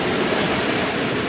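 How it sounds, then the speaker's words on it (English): Sea waves and wind around a sailing yacht on the Irish Sea, a loud, steady rushing wash of water and breeze with no break. "Waves aren't too big enough to just help us along our way without throwing us around too much."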